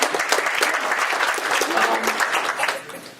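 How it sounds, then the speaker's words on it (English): A crowd claps for Mr. Ted Reinhardt at a Stonecrest city gathering, dense and close applause with some voices mixed in, sustained for about three seconds before tapering at the end. "let's give Mr. Reinhardt a round of applause"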